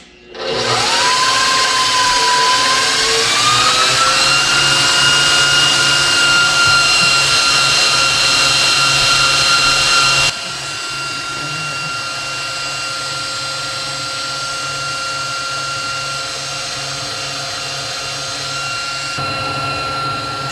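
KitchenAid stand mixer whipping cream into butter, a loud steady motor whine with a rising pitch as it speeds up, then dropping to a lower constant hum partway through, running alone without voices.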